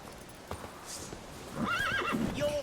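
Roach, a horse in a video game, neighs in a clear rising and falling whinny, with hoof clip-clops and trotting beneath, close and fairly loud.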